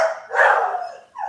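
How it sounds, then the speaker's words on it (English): Unhappy puppies barking and yelping close by, a rising whiny bark followed by a shorter high yip, loud and alone without talk. "We have some puppies that are not happy."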